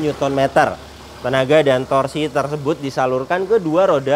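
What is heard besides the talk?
No everyday noises stand out.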